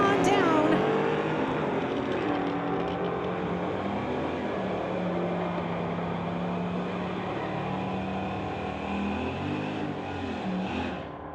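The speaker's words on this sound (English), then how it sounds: "Chev versus Chev at the Titanium Strip at Mission Raceways, Friday night street legals" Chevrolet street-legal cars drag racing at the Titanium Strip at Mission Raceways on a Friday night, a loud, sustained engine roar that fades slowly as the cars pull away down the track, with a voice speaking over it.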